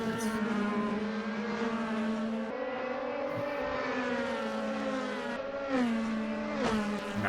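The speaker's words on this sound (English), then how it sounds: "Mika Hakimi going very hard onto the power as well." DTM race car engines at the Zandvoort circuit howl under hard acceleration, sustained loud harmonic drone with rising pitch sweeps as drivers go hard on the power, a couple of sharp gear-change dips near the end.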